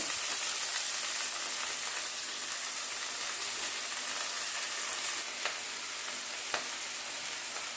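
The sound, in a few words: stirring chopped onion into frying egg curry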